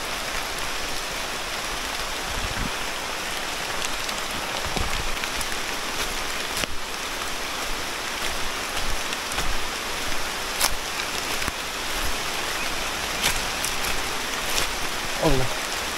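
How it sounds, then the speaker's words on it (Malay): Steady rain hisses through the jungle along a hiking trail to Damai Waterfall in Malaysia, a dense unbroken wash of drops close around, with occasional voices and a few soft thumps beneath it. "Korang boleh tengok ke hujan."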